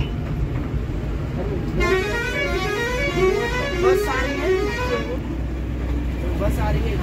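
A bus approaches on a steep mountain valley road, sounding a run of melodic, wavering horn toots over a steady low engine rumble from near to mid distance, while a voice talks over it.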